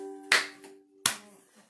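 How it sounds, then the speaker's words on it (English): Two separate sharp hand claps during a live library storytime, spaced well apart and close, over a faint steady hum. "If you're ready for a story, clap your hands"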